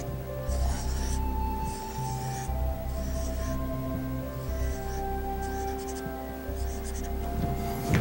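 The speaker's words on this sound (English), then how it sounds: "So let's draw ourselves a couple eyeballs." A pen squeaks and scratches across a board while drawing eyeballs, in about six short bursts separated by brief pauses, close and clear over a low background hum.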